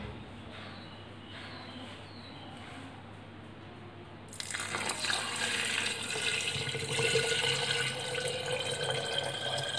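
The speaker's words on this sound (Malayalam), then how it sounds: "നമുക്ക് ഇതിൻ്റെ ഈ ഭരണിയുടെ ഏകദേശം 1/4 ഭാഗത്തോളം നമുക്ക് ഒഴിച്ചു കൊടുത്താൽ മതിയാവും" Boiled, cooled water poured into a jar for making banana wine. Quiet room tone gives way partway through to a steady, close rush of pouring that continues to the end.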